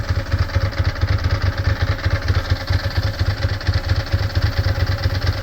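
A 2002 Ducati ST4s motorcycle engine idles steadily up close, its low, lumpy pulses repeating evenly throughout with no talking.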